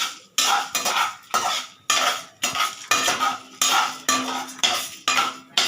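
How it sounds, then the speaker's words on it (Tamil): A spoon or spatula scrapes and stirs tamarind and garlic in a metal pan, about a dozen regular rhythmic strokes with a faint sizzle beneath; close and clear, no talking. "இப்போ வதக்கலாம்"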